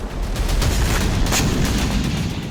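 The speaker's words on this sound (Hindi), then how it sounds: "दाहिया में इजराइल ने एक के बाद एक 4 राउंड में विस्फोट किए।" Israeli strikes hit Beirut's Dahieh district, and the result is a loud, sustained roar of blasts and rumbling booms that fills the whole stretch without a break and with no voices.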